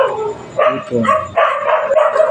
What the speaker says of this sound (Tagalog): Mga vlogger na aso.